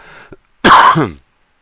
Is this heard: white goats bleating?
no